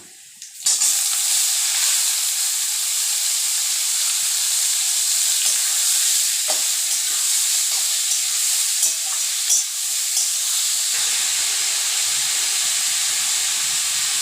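Pumpkin with chopped onion and green chilli hitting a hot pan, a loud, steady sizzle and hiss that holds close for the whole stretch, with faint scraping and clinks underneath.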